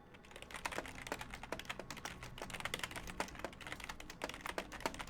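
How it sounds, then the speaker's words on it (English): Fast, furious typing on a computer keyboard during a tabletop role-playing session, a dense stream of clicky key strikes running steadily and close for the whole stretch, with no talk over it. "I hear a lot of typing furiously."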